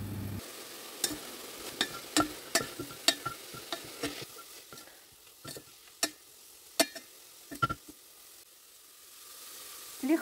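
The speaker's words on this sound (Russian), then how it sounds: "Снова перемешиваем." Soft frying hiss of flour in a pan with a series of sharp clinks and scrapes from a spoon stirring, irregular taps over a quiet sizzle.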